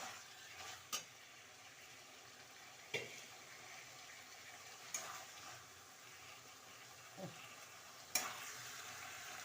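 Potato and pointed gourd curry with sesame and poppy seed cooking down in a pan, a faint, soft low sizzle with a few sharp spoon knocks against the pan spaced a couple of seconds apart.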